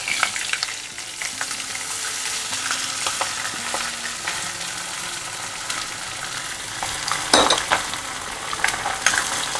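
Grated potato sautéing in a pan with red chilli, a steady close sizzle with occasional scrapes and clinks of a stirring utensil and one louder scrape near the end.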